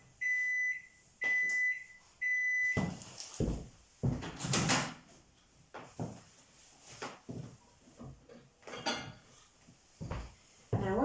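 A microwave oven cooking an upside-down pudding finishes with three loud, evenly spaced beeps, then its door clunks open and handling noises, knocks and clatter follow close by.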